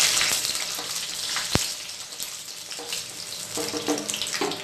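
Dried red chilies frying in hot oil in a pan for spicy chutney, giving a close, steady crackling sizzle with a sharp pop partway through and faint clinks near the end.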